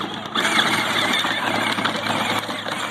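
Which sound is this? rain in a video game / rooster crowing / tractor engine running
tractor engine running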